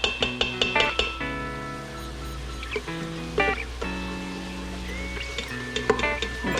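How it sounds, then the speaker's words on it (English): A metal spoon scrapes and taps the bottom of an Instant Pot while onions sauté, producing soft clinks and scraping strokes over a steady background sizzle. "I'm just taking a spoon and going ahead and try to get most of it off the bottom of the pan."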